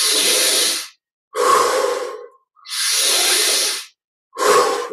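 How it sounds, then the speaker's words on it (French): Deep breaths during a guided meditation, four long airy inhales and exhales, close and loud, separated by brief silences and heard alone. "Deux, respire encore."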